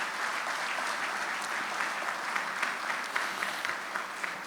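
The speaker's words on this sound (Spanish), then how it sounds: "Por favor, un fuerte aplauso para don Fabio." Applause honoring don Fabio at an international social security congress, a fairly quiet but continuous audience clapping with a few sharper individual claps standing out.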